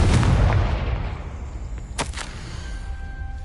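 A Confringo fire spell from the Hogwarts Legacy video game bursts as a loud, booming blast at the start, then fades into a rumbling tail with two sharp cracks about two seconds in.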